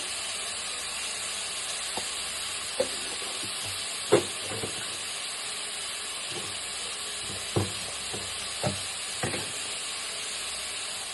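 Mutton frying in a pan with turmeric, salt and chilli powder for an old-style mutton pulao: a steady low sizzle runs throughout, broken by several sharp clinks and scrapes of a spoon stirring, with no one talking.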